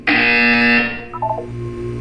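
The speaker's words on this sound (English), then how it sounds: "You will hear a buzzer." A loud electronic buzzer in the video game Portal 2 sounds as a long steady tone, then gives way to a few shorter beeping tones that fade into a quieter hum.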